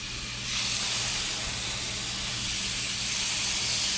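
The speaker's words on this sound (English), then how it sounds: "there's that sizzle." Blackened catfish pieces sizzle in hot olive oil in a pan, a steady loud hiss that swells after the first half second and holds evenly to the end, with no talking.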